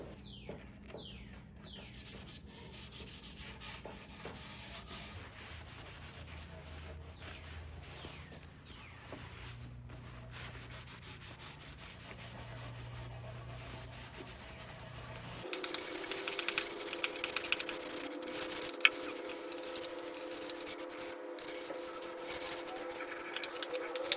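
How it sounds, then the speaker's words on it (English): Hard wax oil being rubbed into the wood of a 100+ year old Neoclassical French chest of drawers with a white scrubby pad, a faint scratchy scrubbing that turns into a steadier, brighter friction in the later part. "You apply it liberally. I'm using like a white scrubby pad."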